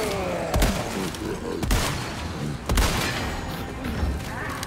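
Gunshots ring out in the video game Resident Evil 4 Remake, three sharp loud blasts spaced about a second apart over a dense, noisy game soundtrack.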